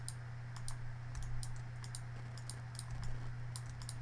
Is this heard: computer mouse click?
yes